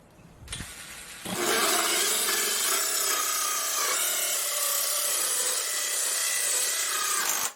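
A cordless drill fitted with a grinder adapter bit cuts into wood, starting after a brief knock and then grinding in a loud, continuous rasping whine that holds steady to the end, with no voices.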